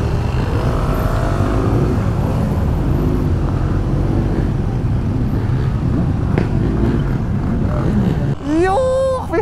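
Group of motorcycles riding in a large pack and overtaking, engines droning continuously and loudly close by with swelling and fading pitch as bikes pass, someone talking over the roar and a sharp engine rev near the end.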